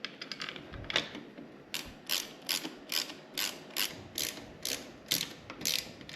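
A ratchet clicks in quick bursts of pawl ticks while it drives the main screws into the rear brake master cylinder of a Ninja 500 motorcycle, close and fairly quiet, with pauses between strokes.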